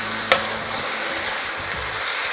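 Sliced onion sizzles steadily in a hot pan, a dense even crackle with one sharp utensil tap near the start, close and alone.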